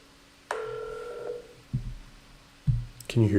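A phone call being placed from a mobile handset: a steady two-tone dial signal holds for about a second, then soft knocks and handling noise follow, with a short burst of speech at the end.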